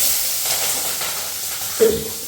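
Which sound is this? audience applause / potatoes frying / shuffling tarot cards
potatoes frying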